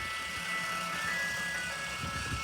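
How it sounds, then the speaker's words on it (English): Ice cream truck in Fresno, California playing its jingle, a steady, looping tinny melody that carries continuously at moderate loudness with traffic rumble underneath and no talking. "There's the ice cream truck."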